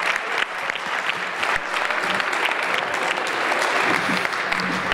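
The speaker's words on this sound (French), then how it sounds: "Mais allez, applaudissez Ramine, comme ça il peut partir." Steady applause from a crowd, dense clapping sustained throughout with no pauses, fairly loud and close.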